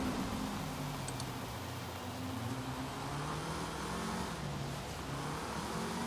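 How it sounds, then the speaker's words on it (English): A race car engine echoes through a tunnel in a racing video game, a steady droning hum with a faint revving edge that holds at moderate, even loudness throughout, with no voices. "Love the engine sounds of the tunnels."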